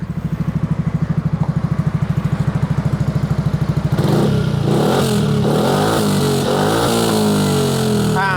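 Yamaha X-Max 300 scooter from 2018 idling with an even, throbbing pulse, then its engine revved up and held high for several seconds, loud and close, with no talking.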